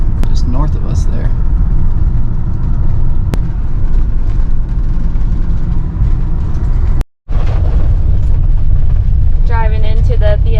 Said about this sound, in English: Driving into the BLM land in Utah. Yep, doing our first off-roading. It's very bumpy and loud.